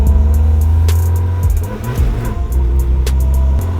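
A Tofaş Doğan car with an aftermarket exhaust runs loud and close, its deep engine drone dipping and rising again as it shifts gears, with a few sharp clicks over the rumble.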